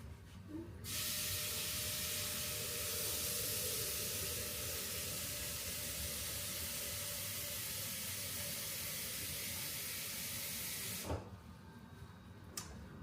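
A litre of water pours steadily into a Thermomix bowl in the kitchen, a continuous hissing splash that starts abruptly, runs for about ten seconds and then stops.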